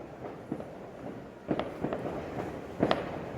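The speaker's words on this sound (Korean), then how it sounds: "그냥 불꽃놀이 구경하는 거야?" New Year fireworks in Baguio, Philippines, popping in scattered distant bangs and crackles over a low background rumble, irregular and moderately faint.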